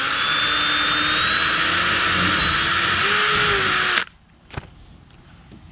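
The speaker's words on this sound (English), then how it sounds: "pre-drill my hole." A power drill pre-drills a screw hole through a storm door hinge while a Larson storm door is mounted on a greenhouse: a loud, steady, high whine runs for about four seconds, then cuts off abruptly, leaving quiet with a few small knocks.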